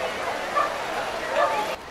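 Dogs at a pool's annual Pooch Plunge, a couple of short yips or barks heard under a reporter's continuous narration.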